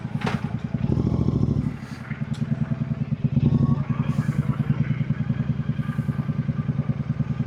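A motorcycle rides along a road, its engine pulsing loud and close with a brief dip and swell in revs, while wind and traffic noise rush past and a faint voice speaks over it.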